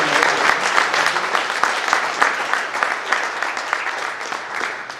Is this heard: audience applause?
yes